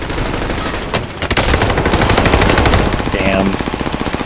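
Rapid automatic gunfire in the video game Warzone, loud and close, with sustained bursts and a few single shots layered over a dense battle din, with brief voices mixed in.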